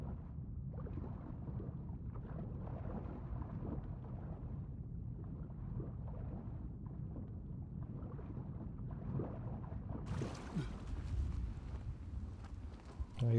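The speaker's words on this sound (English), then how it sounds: "I hear a storm coming" Low, rumbling wind gusts swell and fade around a stranded ship in Uncharted 4 as a storm approaches, a steady muffled roar carrying through the scene with scattered creaks and thuds.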